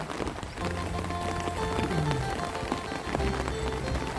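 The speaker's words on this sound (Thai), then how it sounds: "โอ้น้ำไหลแรงมาก นี่นะคะฝนตกไม่ต้องกลัวว่าว่าน้ำจะท่วม" Heavy rain falls with strongly flowing water, a dense continuous patter and rush at steady volume through the whole stretch, with no talking.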